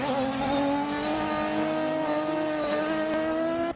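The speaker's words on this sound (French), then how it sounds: "Je suis dans ma Skoda Fabia du Trophée Andros." Skoda Fabia Trophée Andros ice-racing car engine droning at a steady high pitch, loud and close for several seconds with no talking, before cutting off abruptly at the end.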